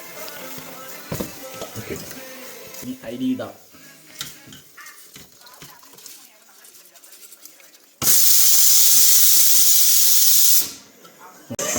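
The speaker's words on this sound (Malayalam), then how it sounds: "അരി തിളക്കണുണ്ട് അരി തിളച്ച് വരുന്നുണ്ട്" Rice boiling in a pot of salted water on a stove, with bubbling and scraping at first, then a loud steady hiss of steam rushing for about three seconds before it drops away.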